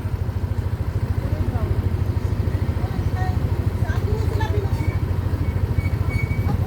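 A motorcycle engine runs steadily close by with a fast, even low throb, carrying on throughout during a trip toward a hidden spot in Pangasinan, with faint chatter and chirps above it.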